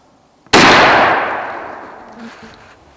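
A single loud shotgun blast from a Stevens Model 301 .410 firing a TSS load outdoors at a 30-yard pattern target, a sharp report with a long decaying echo and no talk over it.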